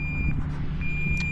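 A steady high-pitched electronic beep repeats in a regular pattern from a DJI Neo drone's locator, clear over a low rumbling background.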